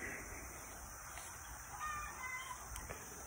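Backyard chickens squawking and clucking on a wet morning, faint and distant over steady outdoor background hiss.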